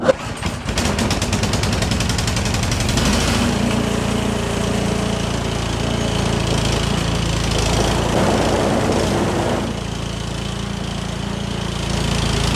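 A Cub Cadet 221L snow blower's small engine sputters to life and then runs continuously and loudly close by, with a harsh, uneven chugging and no speech.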